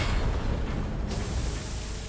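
Deep, rumbling depth charge blasts surround a wartime submarine, a dense continuous low roar that stays loud and steady throughout with no clear separation between individual explosions.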